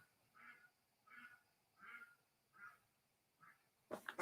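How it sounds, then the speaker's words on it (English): Five evenly spaced duck quacks at a steady rhythm on a farm, fairly faint and distant, followed by a sudden sharp rustle at the end. "My ducks might be going off out here"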